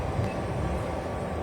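Inside a suburban commuter electric train carriage near St. Petersburg, a steady low rumble and rattle of rolling stock fills the space evenly, with no voices.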